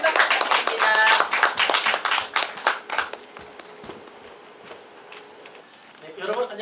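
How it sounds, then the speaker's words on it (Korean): An audience at a Korean lecture claps to welcome the speaker, a dense burst of applause that fades after about three seconds into a quiet room, followed by a voice starting to talk. "큰 박수 부탁드립니다."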